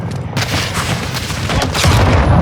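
A missile strikes an aircraft in Call of Duty MWII with a heavy, roaring boom that rumbles on amid chaotic battle noise and stays loud and close to the end.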